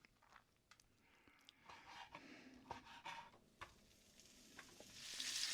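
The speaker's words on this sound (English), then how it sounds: "I'm rendering the fat out of this bacon to use that to saute our vegetables." Bacon frying in a pan as its fat renders, giving a quiet crackling sizzle with scattered pops and scrapes that swells into a brighter, hissier sizzle toward the end.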